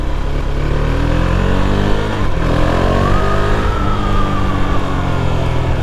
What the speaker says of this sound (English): So I'm on a 2021 Duke 390.